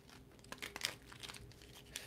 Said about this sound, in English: I'm going to go ahead and bless and shuffle